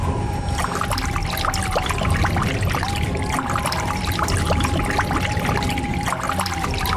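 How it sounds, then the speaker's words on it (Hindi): Water trickles and dribbles from beneath a person in an animated village horror-comedy scene, a steady continuous pouring sound with no speech over it. "अरे क्या तुम्हारे नीचे से पानी कहाँ से आ रहा है?"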